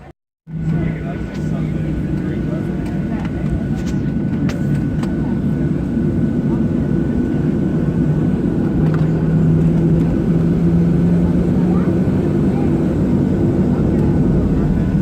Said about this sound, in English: Great seat for the classic airplane wing takeoff shot.